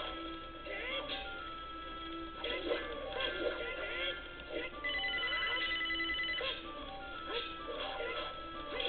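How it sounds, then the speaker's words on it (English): A telephone rings during a Legend of Zelda: Ocarina of Time play session, its steady electronic tone sitting under game sounds, cat-like meows and a busy, cluttered mix. "the phone's ringing"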